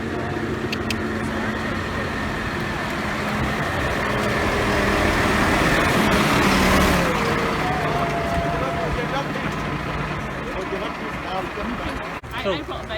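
A tractor's heavy engine rumbles past on a country road, swelling as it nears and fading away, with people talking over it throughout.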